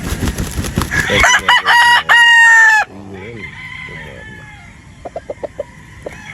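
A Sweater Boston broodstag rooster crows loudly and close by in several long, strained calls, then a few short clucks follow over quieter farmyard background.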